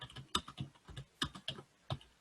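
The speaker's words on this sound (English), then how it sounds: "Here's somebody typing a question." Computer keyboard typing, a quiet, close sequence of crisp key clicks in uneven bursts, roughly ten taps with short pauses between them and no voices.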